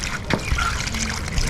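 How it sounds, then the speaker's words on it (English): Water poured into a pot while cooking omo saabo, a Ghanaian snack, giving a continuous trickling and splashing stream over a busy outdoor background. "We now add water to it."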